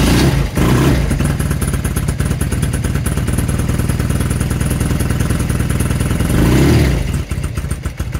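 A cold 1984 BMW R100 Scrambler motorcycle engine runs loud and close, a steady clattering idle with slight revving throughout, briefly dipping near the start and end.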